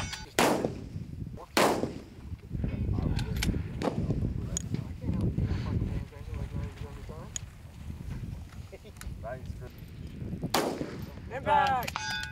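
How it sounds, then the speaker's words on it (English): Rifle shots crack out at a windy outdoor shooting stage in the badlands, several sharp reports spaced seconds apart with occasional faint metallic rings from steel targets, under gusting wind and someone talking. "we just finished up shooting stage 11 off some T-posts"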